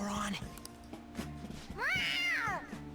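A cat meows in the video game Persona 5, a rising-then-falling mew near the end that stands out clearly over background game music and voices.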